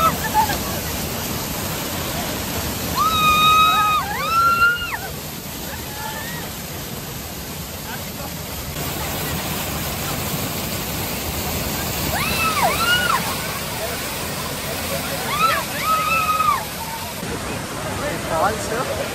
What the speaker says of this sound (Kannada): ನೀರು ಫುಲ್ ಫೋರ್ಸ್ ಇದೆ.